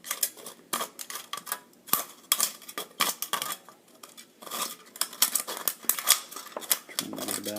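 Sharp metallic snips and crinkly clicks repeat at close range in an irregular rhythm as scissors cut through a thin aluminum can, with no talking.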